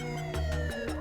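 An ambulance siren wailing on the way to a domestic violence call, a loud, steady two-tone cycle that drops in pitch partway through and rises again, heard close with no talking.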